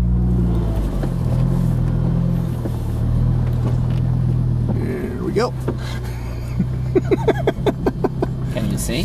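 A Hummer's deep engine rumble idles and churns close by off-road, then gives way to clattering and bumping over rough canyon terrain as a voice talks over it.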